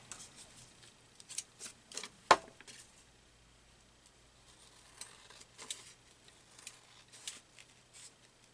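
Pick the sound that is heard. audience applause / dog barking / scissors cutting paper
scissors cutting paper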